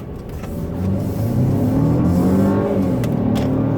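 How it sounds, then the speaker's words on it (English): A 2017 Mercedes-Benz GLC 300 4Matic crossover accelerates hard, its engine note rising and swelling to a steady loud drone inside the cabin, with no talking. "let's see how it handles if we hit the gas a little bit."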